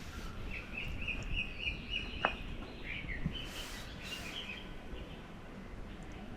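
Faint birds chirp and trill intermittently over a low background hum at a Chinese home's grounds, with a few short calls standing out.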